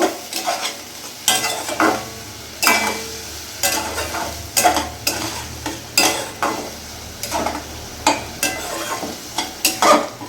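Spice paste with coriander powder and a splash of water is stirred in a pan for a rohu-style katla fish curry with potatoes, regular rhythmic spoon scrapes over a low sizzle, close and clear, no talk.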